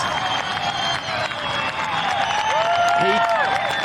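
Beachside crowd at a surf contest near a pier roars and cheers after a surfer's aerial, a steady broad wash of cheering and clapping with a few whistles rising near the end, no talk over it.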